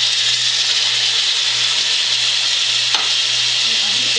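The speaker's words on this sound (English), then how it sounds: "Now I have the onions and the garlic going in the pan." Onions and garlic sauté with ground chuck in olive oil in a pan, a loud, steady sizzle running throughout with a brief stir click near the end.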